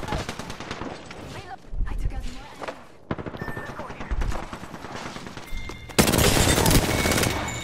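Sustained automatic gunfire from Apex Legends in ranked play, loud and dense with brief pauses, then a harsher, heavier volley toward the end.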